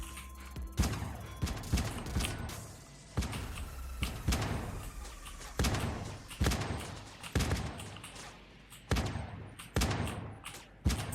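Gunfire in a video game comes as loud, sharp shots and short bursts spaced every second or so across the stretch, each with a booming tail, close and dominant.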